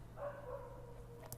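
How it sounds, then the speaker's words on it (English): Dogs bark somewhere behind a speaker indoors, faint and distant, a few soft yips and barks low under a steady background hum. "I know that you can hear the doggos barking behind me."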